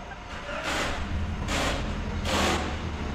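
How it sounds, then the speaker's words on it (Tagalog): A 2020 Toyota Rush idles with an engine misfire, a low rumbling exhaust note broken by three periodic rough bursts roughly a second apart, heard close up. "Papakita ko sa inyo ang misfire."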